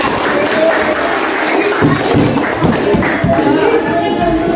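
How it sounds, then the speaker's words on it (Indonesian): A classroom of elementary-school pupils claps for a classmate during a microteaching social-studies lesson, a dense, close patter of many small hands with voices murmuring underneath. "Tepuk tangan dulu untuk Angka."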